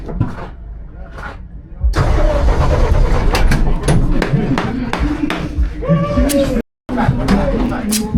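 A race car engine cranked on the starter and catching, a loud close rumble that surges and keeps running with brief cuts, while people talk over it.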